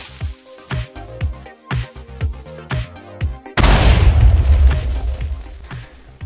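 Rapid rhythmic booms from a Minecraft TNT cannon fire in steady succession, then a massive sustained explosion roars and rumbles before slowly fading.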